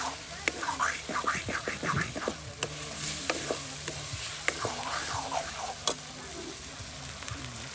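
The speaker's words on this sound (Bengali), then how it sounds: "এই যে মাংসটা আপনার মশলার সাথে কষিয়ে নেওয়া হচ্ছে।" Meat frying with spices in a pan and being stirred, a close, soft sizzle broken by repeated scraping strokes of the spoon in an uneven rhythm, with faint background murmur.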